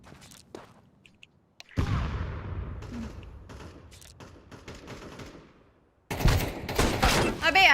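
Gunfire in Counter-Strike 2, several sharp cracks early on followed by a sustained burst of shots and clatter, then another loud stretch of shooting at the end, mixed with faint game ambience.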